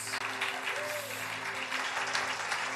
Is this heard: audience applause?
yes